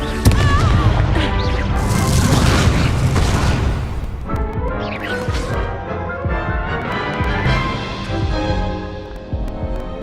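A Confringo blasting spell explodes in the Hogwarts Legacy video game with a loud, sustained boom and crashing rumble that fades into continuing game sound.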